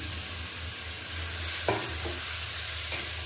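Fried fish pieces drop into a pan of sizzling spice masala for a Bengali curry, a constant near sizzle broken by a soft thud and a couple of brief scraping sounds.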